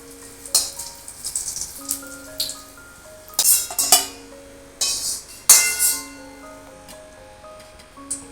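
Oil frying in a pan for a South Indian tamarind chutney (puli thuvaiyal), with crackling sizzle bursts and clinks of utensils over steady background music.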